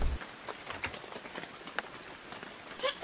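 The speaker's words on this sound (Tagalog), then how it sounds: "Hindi ba talaga titila ang ulan?" Light rain patters steadily on a surface, soft and fairly quiet, with a few scattered louder drops and taps.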